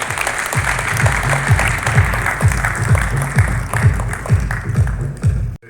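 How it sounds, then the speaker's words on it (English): An audience at a symposium applauds loudly and steadily for several seconds, the close, dense clapping falling into a strong rhythmic beat before it stops abruptly. "Mr. U. Vishwanathan, kindly give a round of applause, please."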